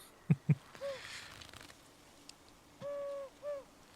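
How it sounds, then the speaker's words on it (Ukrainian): A masked owl in the Darwake video game hoots softly a few times, short tonal calls spaced apart after two quick knocks, over quiet ambience. "Диви, як прикольно, сова в масці"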